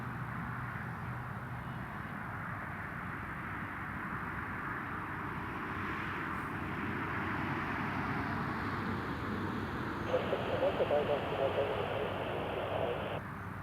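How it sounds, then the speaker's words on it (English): An Air France airliner rolls toward the end of the runway at Newcastle International Airport, heard as a steady, distant broadband engine rumble that swells slightly midway, with faint tonal radio-like sounds near the end. "The Air France just approaching the end of the runway now."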